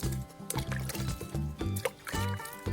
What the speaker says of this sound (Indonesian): Siram benih yang baru, disemai dengan air secara perlahan agar benih tidak terangkat hingga benar-benar basah.